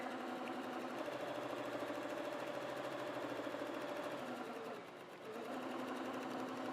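A sewing machine chain piecing fabric runs in one steady, close mechanical whir, dipping briefly near the end before carrying on, in a quilting workroom with no talk.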